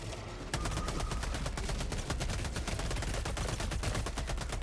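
A Gatling turret in the video game Helldivers 2 firing a long, steady, rapid burst of loud gunshots, evenly spaced and dense, going on without pause.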